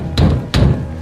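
Two heavy knocks thud against a wooden door during a stormy night, spaced about a third of a second apart, close and loud over a low rumbling background.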